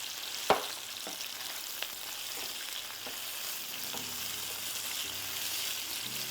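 Onions turning brown and caramelizing in a pan give a steady, soft sizzle and hiss, with a few sharp ticks of a utensil stirring near the start.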